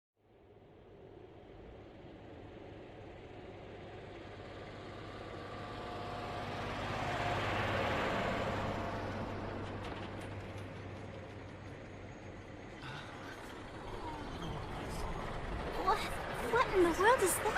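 In an anime scene, a motor vehicle moving without horses gives a low engine rumble that grows louder toward the middle and then eases off, with voices talking over it.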